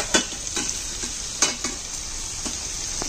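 Tuna spaghetti with vegetables stirred and fried in a pan: steady hissing sizzle with several scraping stir strokes at an irregular rhythm, close and moderately loud, with no voices.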